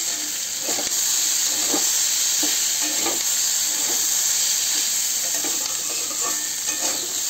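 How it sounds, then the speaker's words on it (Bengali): Boiled potato and papaya frying in a pan for sago pulao, a loud continuous close sizzle and hiss with soft intermittent stirring scrapes. "ভাজার মধ্যে আপনাকে সেদ্ধ করে নিতে হবে আলু আর পেঁপেটা।"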